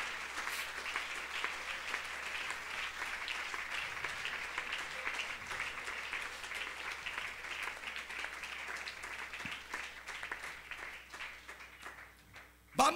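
A church congregation applauds together in a long, steady wash of clapping that carries on for several seconds before thinning out, with voices faintly underneath.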